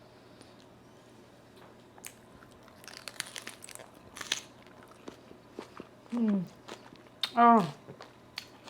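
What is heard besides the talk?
biting into a blackened shrimp lettuce wrap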